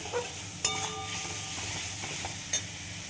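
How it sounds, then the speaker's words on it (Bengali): Tomato, green chili and ginger sauté in a pan with a soft continuous sizzle and occasional stirring clinks and scrapes, fairly quiet and close with no talking. "এবার একটু কষিয়ে নেব সব মশলাপাতি"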